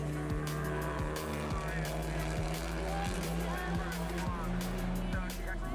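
A Honda FK8 race car circles Donington Park, its engine a steady, sustained drone with regular rhythmic pulses, heard at a distance beneath a commentator's voice.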